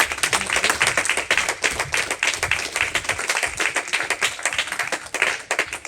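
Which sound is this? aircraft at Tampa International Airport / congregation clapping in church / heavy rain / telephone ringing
congregation clapping in church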